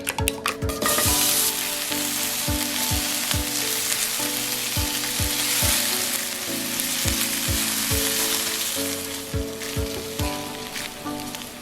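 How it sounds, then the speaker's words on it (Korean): Two fish cake sheets sizzle and crackle in a hot frying pan, a steady bright spitting hiss with light tapping hits of a utensil every second or so; close and fairly quiet, with no talking. "어묵 2장은 앞뒤로 살짝 구워주세요."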